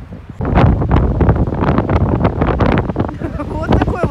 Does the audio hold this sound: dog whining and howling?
no